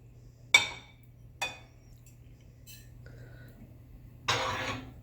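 Whole cumin and coriander seeds tipped into a pan in a home kitchen: two sharp rattling clinks a moment apart, a small tap, then a longer scattering rustle, fairly close and quiet with a low background hum.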